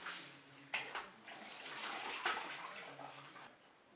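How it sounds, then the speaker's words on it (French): Water pours and splashes steadily as cooked leeks are drained from the removable bowl of a Cookeo multicooker into a sink, with a few gurgles and knocks near the start. "Je vais maintenant sortir la cuve du Cookéo pour égoutter les poireaux."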